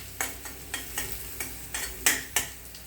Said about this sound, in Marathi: आता ही भरपूर कोथिंबीर मी यात घालणार आहे। नेहमीच्या सवयीप्रमाणे फोडणीत कोथिंबीर घालून परतून घ्यायची।